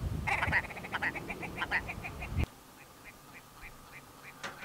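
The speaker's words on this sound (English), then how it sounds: "it actually sounds like go back, go back, go back, go back, go back" Red grouse calling in open moorland, a run of evenly spaced clipped notes repeating like 'go back, go back', loud and close at first, then continuing fainter after an abrupt drop in level.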